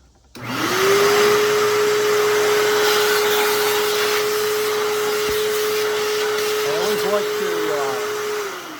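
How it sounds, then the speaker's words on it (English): A mini shop vac used for dust collection in a car audio trunk build spins up quickly and holds a loud, steady whine for several seconds before easing off at the end. "Draw on my dust collection real quick, which is a mini shop vac."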